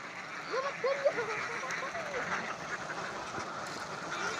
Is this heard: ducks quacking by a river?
yes